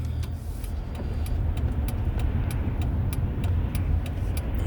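A car in motion during a morning drive, with a steady low engine and road rumble held throughout as the vehicle turns, plus faint regular ticking like a turn signal.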